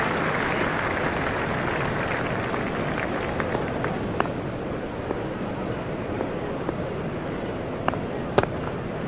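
A stadium crowd in EA Sports Cricket 25 cheers and roars after a batting shot in a Pakistan vs Netherlands World Cup match, a continuous dense wash of noise with a few sharp claps and pops.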